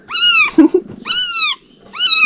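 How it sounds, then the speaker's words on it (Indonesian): A tiny kitten meows three times, loud and close. The cries are high and drawn out, with a short soft snuffle between the first two. "anak kucing sekecil ini"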